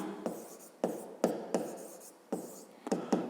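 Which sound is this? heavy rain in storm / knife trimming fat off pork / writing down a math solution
writing down a math solution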